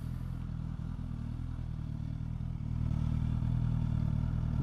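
A Suzuki Katana motorcycle engine running rough at low speed, a loud, close, continuous low rumble with uneven throbbing that grows a little heavier and steadier toward the end.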